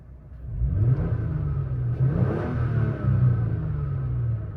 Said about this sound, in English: Even revving it up in neutral, it sounds good.